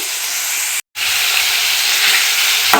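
Green chillies broken by hand into a hot pan for a dhaba-style paneer curry, loud steady sizzling and frying hiss with a brief silent gap, then continuous crackle.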